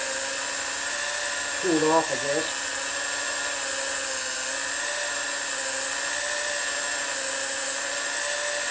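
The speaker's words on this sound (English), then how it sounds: "Now good, it's drilling." Power drill boring out a broken sprocket bolt on a Harley twincam rear wheel: a steady high-pitched whine runs throughout, and someone speaks briefly over it near the start.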